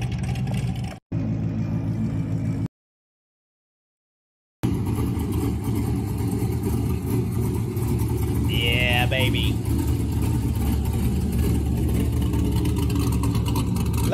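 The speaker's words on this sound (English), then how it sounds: "what do you guys think about the sound of the C5 Corvette with a cam?" A cammed C5 Corvette engine rumbles loudly and close, with a brief gap in the sound, then a sharp rev that rises and falls before settling back into a choppy idle.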